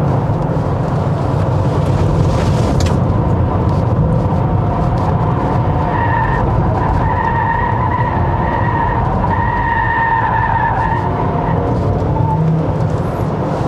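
A 2022 Honda CR-V Hybrid 4WD Touring taking corners, with steady road and engine noise and a squeal of tires rising midway through the turns, heard from inside the car, no talk.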